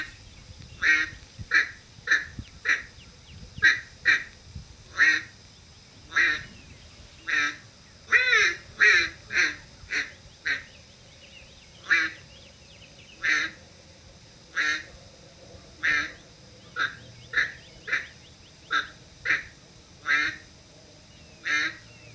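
A Rowdy duck call by Pirate imitates a hen mallard, sounding a long series of quacks and clucks, loud and close, in uneven bursts with short pauses, some doubled, without any talking.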